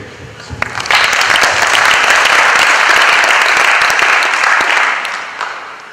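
Audience at a company meeting in Xiamen, China applauding loudly, a dense sustained wash of clapping that swells in after a second and fades near the end.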